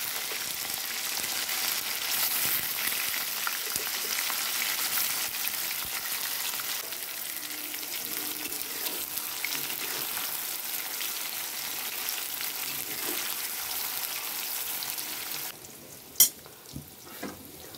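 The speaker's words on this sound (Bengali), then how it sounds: "পনির ভাজা হয়ে গেছে" Paneer pieces frying in hot oil in a pan, a steady low sizzle running continuously, fairly faint, with a brief clatter near the end.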